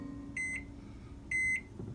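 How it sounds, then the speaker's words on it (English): Microwave oven softening cream cheese, heard as two short electronic beeps about a second apart over a low hum. "I'm gonna stick it in the microwave for about 30 seconds."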